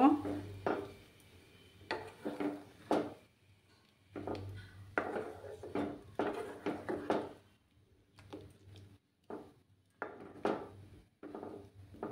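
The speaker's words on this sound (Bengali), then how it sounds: "দুধটা দিয়ে ভালোভাবে মিক্স করে নেব।" Potatoes being stirred with milk in a pan, a spoon knocking and scraping the metal in irregular bursts with short pauses, close by and fairly soft.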